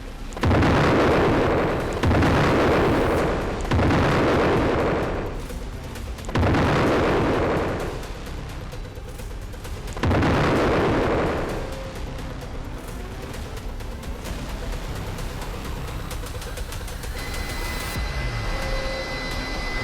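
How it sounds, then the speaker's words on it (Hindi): A B-1 Lancer bomber strike sets off a series of heavy explosions: five loud, booming blasts about two seconds apart, each decaying into rumble, followed by a lingering low roar. "फिर एक के बाद एक कई विस्फोट होते हैं।"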